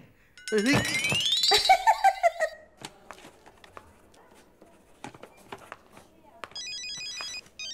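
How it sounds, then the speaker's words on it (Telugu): A mobile phone rings loudly in a hospital ward, its melodic ringtone rising and falling for a couple of seconds, followed by scattered clicks and a brief repeated electronic beeping near the end. "ఎవరది వార్డులో ఫోన్ పెట్టుకుంది? పేషెంట్స్ ఉన్నారు కదా."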